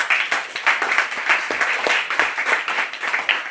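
An audience applauds three guests at a lecture on India's development vision, with loud, continuous clapping and sharp individual claps standing out, sustained without speech.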